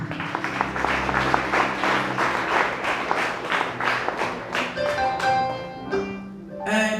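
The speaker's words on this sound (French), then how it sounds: "Une deuxième fois, acclamez Saint-Esprit." A congregation applauding during a church service, with dense clapping from many hands filling the room that thins toward the end as sustained organ or keyboard notes come in.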